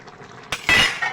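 A utensil stirs roasted cumin powder into a fish and green banana curry in a pan, giving a quick scrape and a brief clink, close and alone.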